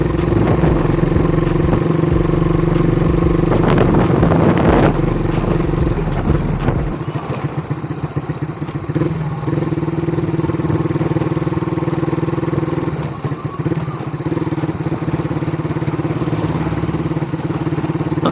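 A Yamaha RS 150 motorcycle fitted with a Vmax Stage 2 exhaust and silencer rumbles steadily close by, its engine note holding a constant hum with some clatter and a shift in tone partway through, with no talking.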